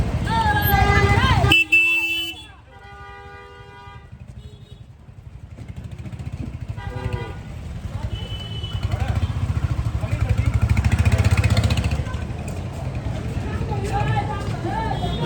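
Motorcycle engines drone through busy street traffic at a roundabout junction with horns tooting now and then, under people talking nearby.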